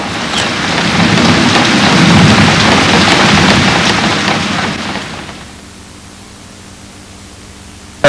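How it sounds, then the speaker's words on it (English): Heavy rain pours in a dense, loud hiss that fades down to a quieter steady patter toward the end. "Lightning and storming and raining"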